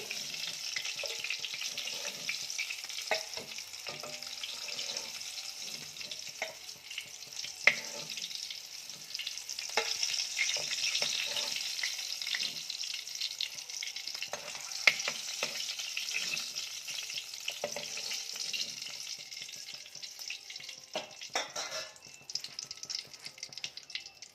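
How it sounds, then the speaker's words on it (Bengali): Eggs frying in oil for egg curry give a soft, continuous crackling sizzle at close range, with scattered pops and utensil clicks throughout and no voices. "ডিমগুলো ভাজা হয়ে গেছে, এবার আমি তুলে নেব। লাল লাল করে ভেজে নিয়েছি।"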